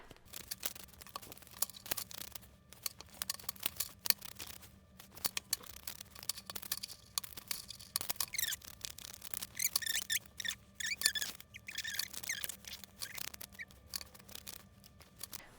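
Tarot cards are shuffled up close in a quiet room, a long run of soft irregular riffling, snapping and papery rustles with brief pauses between bursts.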